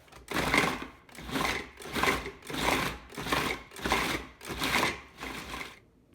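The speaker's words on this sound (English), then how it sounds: "Now we have all the ingredients in our food processor and we're literally just gonna keep pulsing it until it all mixes together." Food processor pulsing a chocolate truffle mixture, six even bursts of whirring and chopping about one per second with short gaps between, close and moderately loud.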